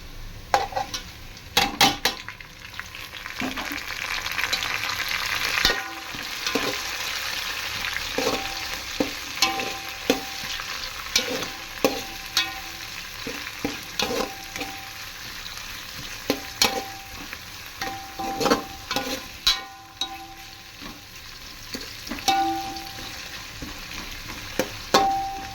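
Chopped onion, tomato, coriander and mint fry in a pan for a drumstick biryani, with a steady close sizzle, frequent stirring scrapes and occasional clinks of a spoon against the pan.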